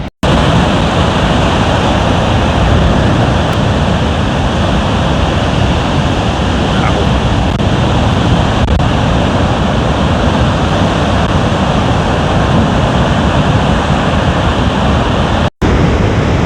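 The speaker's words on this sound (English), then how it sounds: "the waves crashing over" Powerful waves crash against the harbour wall at Seaham beach on the East Durham coast, a loud, continuous roar of surf and spray, close and unbroken, mixed with wind buffeting the microphone.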